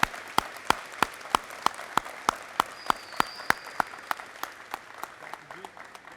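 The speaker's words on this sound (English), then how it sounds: "Let's give him a big round of applause" A small audience applauds at a high school college-signing event, sparse but regular claps ringing out close by over a faint murmur of voices.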